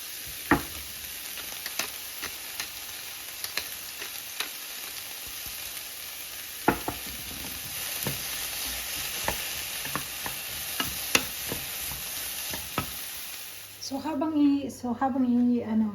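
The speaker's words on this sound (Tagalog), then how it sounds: "Habang niluluto natin ang ating vegetables" Courgette and other vegetables frying in a pan with salt and pepper, a steady sizzle broken by scattered stirring clicks and scrapes, until a voice starts talking over it near the end.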